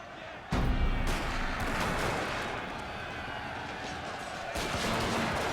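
Musket volleys from infantry units in a Shogun 2 battle, a sharp crack at the start followed by a dense, continuous rumble of distant massed gunfire and battle noise.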